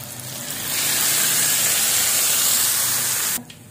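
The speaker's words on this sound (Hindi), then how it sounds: "कड़ी पकोड़े को तड़का लगाएंगे।" A hot tempering of oil with red chili is poured into kadhi pakora, giving a loud, sustained hissing sizzle up close that cuts off sharply just before the end.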